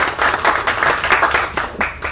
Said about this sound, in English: Big round of applause for Neeraj.